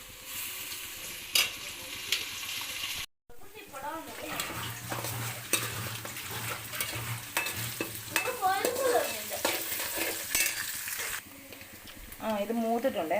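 Curry leaves frying in hot oil with mustard seeds, ginger and garlic, a bright sizzle broken by a brief gap, with repeated metal spoon scrapes and clinks against the pan and a voice speaking at times.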